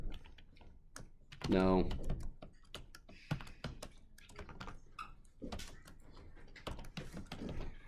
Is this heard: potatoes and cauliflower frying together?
no